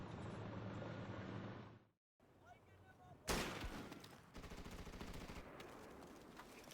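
Gunfire in a video game battle, with bursts of rapid automatic fire and sharp shots, a brief dropout, then a loud blast and renewed firing, heard with voices talking over parts of it.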